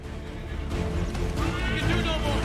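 A horse whinnies within Assassin's Creed III over a busy, dense game soundscape of crashes and clutter, the neigh fairly loud and rising toward the end.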